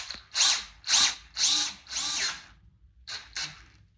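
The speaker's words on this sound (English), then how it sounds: "you give it a couple shots with a drill" A power drill twists steel wire held in a vise, giving four close whirring bursts of about half a second each, then a pause and two shorter bursts.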